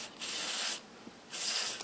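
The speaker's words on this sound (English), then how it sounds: "take your contact cleaner and basically spray inside the switch" Contact cleaner sprayed from an aerosol can into a car's seatbelt buckle switch, two short bright hissing bursts separated by a brief pause, close up.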